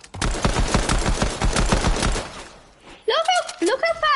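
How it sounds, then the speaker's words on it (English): Pistol magazine emptied in rapid video game gunfire, a fast burst of about a dozen loud sharp shots over two and a half seconds, followed by a brief pause and then excited voices talking. "Look how fast I can empty a mag."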